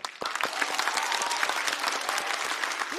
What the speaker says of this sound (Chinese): 让我把掌声再次送给他。